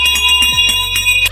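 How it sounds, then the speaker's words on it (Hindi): A cartoon bell rings with sustained bright tones under sharp clattering hits and a sliding whoosh near the end, loud and close with no voices. "घंटी की आवाज सुनकर पहरेदार आ जाता।"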